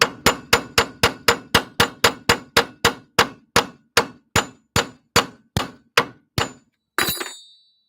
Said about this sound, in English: You want to hammer on that nub, and if you hit it hard, get a couple solid whacks